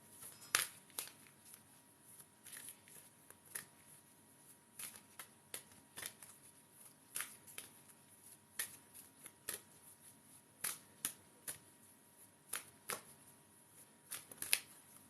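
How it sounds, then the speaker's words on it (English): Quiet, close card shuffling: soft riffles and sharp snappy flicks recurring irregularly, with no talking. "as I'm shuffling these cards"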